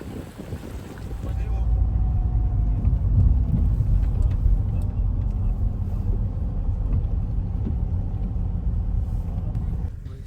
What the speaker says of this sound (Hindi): गाड़ी बहुत स्किड कर रही है